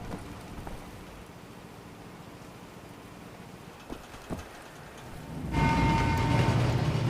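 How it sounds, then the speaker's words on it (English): A train rumbles past overhead in the video game Wolfenstein, starting as a faint distant rush and swelling suddenly into a loud, close roar with a clanking rattle near the end. "train going overhead"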